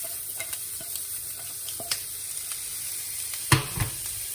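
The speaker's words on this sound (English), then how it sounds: "you saw the bacon spit, you heard the bacon spit" Bacon and onions sizzling in a pan for a bacon and mushroom risotto, a soft steady fry broken by scattered stirring clicks and a couple of louder scrapes near the end.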